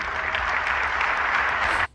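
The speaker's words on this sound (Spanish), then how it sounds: "Y todos le aplauden." Audience applauding a speaker, a dense steady burst of clapping at moderate distance that cuts off abruptly near the end.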